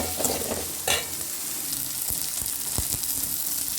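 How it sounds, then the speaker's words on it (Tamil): Onions sautéing in a pan for a beans stir-fry (poriyal), with a steady sizzle, scraping stir strokes and a few sharp spatula knocks against the pan. No voices. "வெங்காயம் சேர்த்து நல்லா வதக்கி விடலாம்."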